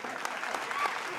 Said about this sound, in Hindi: एक बार कह दिया ताली बजाना है